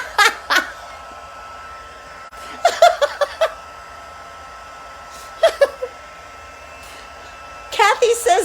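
A craft heat tool melts embossing powder on a stamped card, its steady blowing hum running low beneath several bursts of laughter and voices.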